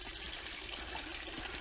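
Water trickles steadily in a garden water feature at Albarda Gardens in Denia, a soft continuous splashing that stays even throughout, with no voices.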